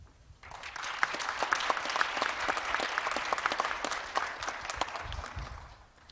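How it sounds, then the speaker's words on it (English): Warm round of audience applause for a judge at an international judicial conference, many hands clapping steadily at moderate distance, swelling quickly and fading at the end, no voices over it. "Let's express our appreciation with a big round of applause for Judge Kyu-hong Lee"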